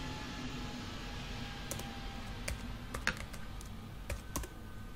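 Keys clatter in scattered, irregular taps on a computer keyboard while someone builds an HTML table, each keystroke crisp and close over a steady low background hum.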